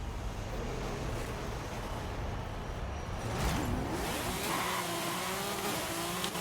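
A car engine in Forza Horizon 5 roars steadily, then bogs and labors as it launches with clutch slip, with a brief whooshing swell midway; no voices.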